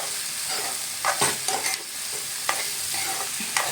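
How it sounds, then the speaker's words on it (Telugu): Ginger garlic paste with turmeric and cut ridge gourd pieces frying in a pan, a constant close sizzle with occasional scraping stirs of a spoon, no voices. "ఈ పచ్చి వాసన పోయేంత వరకు వేపుకుందాం"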